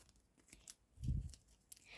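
A paper packet of collectible badges, without perforation, torn open by hand in a brief crackling rip, close and fairly quiet, with light rustling before and after.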